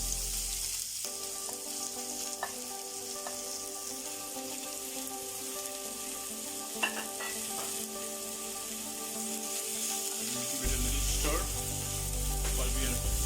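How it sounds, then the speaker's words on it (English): Finely chopped onions drop into hot refined cooking oil in a pan and fry with a steady, bright sizzle and crackle, with occasional stirring clinks, the sizzle swelling louder near the end and no voices heard. "since the pan is hot, the oil is also hot, and we'll add our onions"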